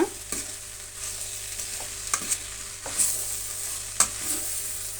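Lentils and grated coconut frying in a pan, a soft sizzle under repeated sharp scrapes and taps of a spoon stirring every second or so, close and clear, no voices.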